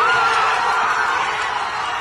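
Hockey arena crowd roaring after a McDavid goal, a loud, sustained wall of cheering and whooping that stays dense throughout with no breaks, with a voice talking over it.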